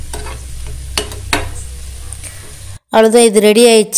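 Chicken frying in hot oil, a steady sizzle with a few spoon scrapes, followed by a brief gap and then someone talking loudly.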